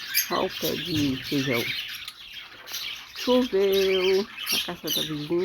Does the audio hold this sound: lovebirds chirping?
yes